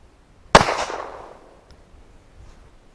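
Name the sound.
9mm pistol firing rat shot round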